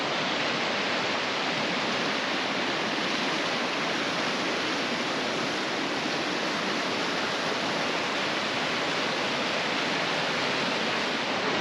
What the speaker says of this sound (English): The Shannon River really pumping behind me